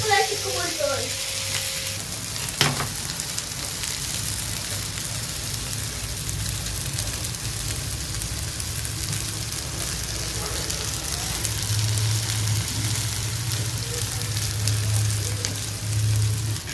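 Fish sizzles steadily on an iron griddle pan with garlic and curry leaves, a dense, constant crackling fry that runs the whole time at close range, with a brief clink early on.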